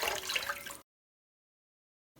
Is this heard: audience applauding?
no